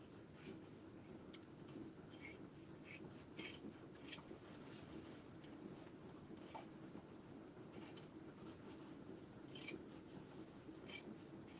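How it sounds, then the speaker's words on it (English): Scissors trimming a fabric seam allowance during sewing, with faint, quiet, intermittent snips in a steady series over low room noise. "now I'll cut 1/4 inch off."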